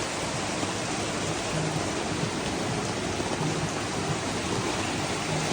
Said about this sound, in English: Look at that Thai rain.